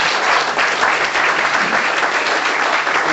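Sustained applause from an audience, steady and fairly loud, with no talking over it.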